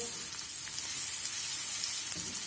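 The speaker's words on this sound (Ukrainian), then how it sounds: "Грибочки мої тушаться" Mushrooms and onions stew in a pan with a steady, close hiss of sizzling, broad and even, with a few faint pops and no talking.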